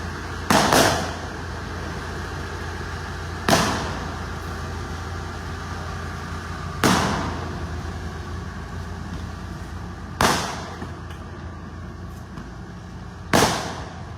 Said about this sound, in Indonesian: Bisa dilihat sendiri mulai menembakkan petasan ya.